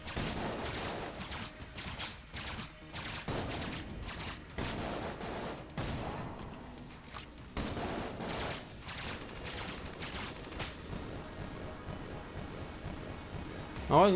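Rapid gunfire from a weapon in Enter the Gungeon, a steady stream of quick, snappy shots with brief breaks, runs at moderate loudness alongside game effects.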